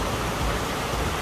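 A stream rushing through a forested mountain valley on the trail to Jirisan's Cheonwangbong peak, heard as a dense, steady broadband roar of flowing water, close and continuous with no pauses.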